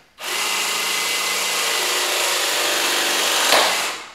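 A clamping tool presses a multilayer pipe fitting, making one steady, loud, close mechanical whir that runs for about four seconds, rises slightly at the end and then stops abruptly.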